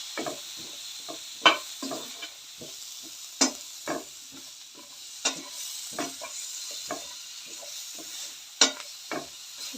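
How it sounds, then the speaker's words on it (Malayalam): Mango pieces being stirred into a dried anchovy curry in a pan, a series of soft, irregular spoon scrapes and taps over a quiet background sizzle, close by. "എന്നിട്ട് നന്നായിട്ടൊന്ന് ഇളക്കി കൊടുക്കുക."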